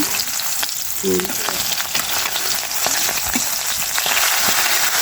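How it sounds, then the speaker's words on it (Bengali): Fish fries in a pan until reddish and crisp, a loud, close, continuous sizzle and spitting of hot oil with scattered pops and no voices. "এদিকে মাছ ভাজিটা প্রায় লাল লাল হয়ে এসেছে"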